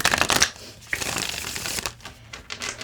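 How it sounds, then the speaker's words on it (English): Tarot cards are shuffled close to the microphone in quick riffling bursts, then a slower run of softer slides and taps as the deck is worked. "so let's shuffle"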